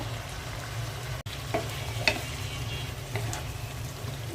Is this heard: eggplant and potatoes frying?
yes